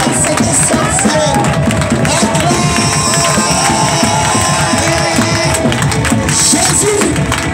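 A church congregation cheers and acclaims Jesus in a loud, sustained crowd roar with whoops and shouts, voices blending into a dense wall of sound throughout.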